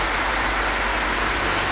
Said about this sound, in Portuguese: Tá um barulhinho de chuva aí agora.